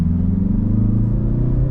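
A 2025 Mazda 3 hatchback in top trim with its 2.5-liter turbo four-cylinder pulls away, giving a steady, close, low engine drone and rumble with no voices over it.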